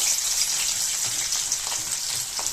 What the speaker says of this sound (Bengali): তেল গরম হয়ে গেছে, এখন আমি এটাতে অল্প গোটা জিরে সম্বার দিয়ে দিয়েছি, অল্প একটু পেঁয়াজ কুচি